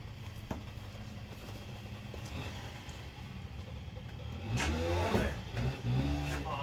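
A BMW E36 engine with headers idles low and then revs up louder near the end, heard up close with a rough, rumbling tone.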